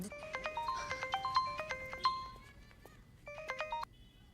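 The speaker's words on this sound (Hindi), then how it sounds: "रोशनी, वो पापा का फोन आया था" A phone ringtone plays a bright, repeating electronic melody of short beeping notes in a Bollywood film scene. It sounds twice, with a brief gap between, fairly clear against a quiet room background.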